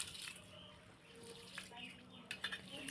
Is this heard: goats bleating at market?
no